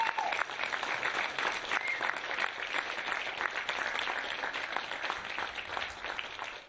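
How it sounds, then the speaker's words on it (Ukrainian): Hundreds of journalists and activists in a hall applaud loudly, a dense, continuous wash of clapping that holds steady throughout. "Сотні журналістів та активістів зустрічають Олега Сенцова та Олександра Кольченка гучними оплесками."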